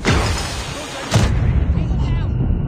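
A missile strike in Call of Duty Mobile bursts with a loud, booming explosion about a second in, following a sharper crack, and a rumbling tail fades out after it.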